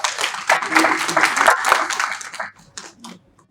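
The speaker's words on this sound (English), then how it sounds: "A round of applause for them." A conference audience claps in a brisk burst that is loud and dense at first, then thins to a few scattered claps and fades out after about two and a half seconds.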